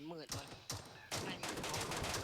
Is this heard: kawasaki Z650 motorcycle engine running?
no